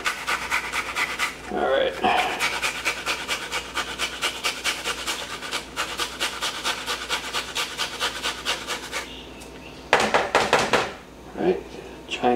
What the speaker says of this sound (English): So, a little green pepper, right? I need to get a better cheese grater.